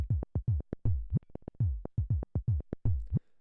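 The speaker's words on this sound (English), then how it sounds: "The first thing to start off with is what I did with the bass drum." Modular synth bass drum patch firing a rapid, slightly uneven sequence of short punchy low thumps with pitch-dropping tails, about twenty hits in a few seconds, dry and alone.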